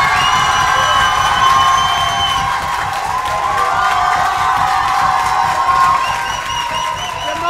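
A live audience at a televised contest show cheers, whoops and claps in a loud, sustained roar with high shouts, close and filling the hall throughout.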